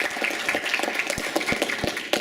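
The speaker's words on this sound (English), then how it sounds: "can we please have a big round of applause for our panelists tonight?" Audience applauding panelists at the end of a workplace generations discussion event, a moderate round of many hands clapping in a hall, steady and fairly soft, with no talk.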